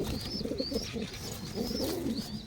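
Racing pigeons coo in a run of soft, low rolling calls that repeat steadily across the moment, fairly close, with some higher chirpy tones drifting over the top.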